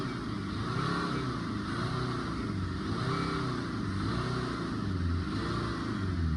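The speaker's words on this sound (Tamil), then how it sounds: "இந்த வண்டியை ஸ்டார்ட் பண்ணி காட்டுறேன்." A Tata Zest car engine runs at idle while giving off white smoke, a steady, close, low rumble with a slow rhythmic wobble that carries on evenly throughout, with no voices.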